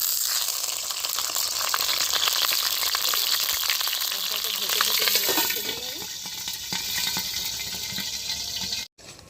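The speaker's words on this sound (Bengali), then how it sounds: "এখন কাতলা মাছের মাথাটাকে আমি ভেজে নিচ্ছি" A catla fish head fries in oil in a wok with a close, steady sizzle and spatter that eases slightly partway through, then cuts off sharply near the end.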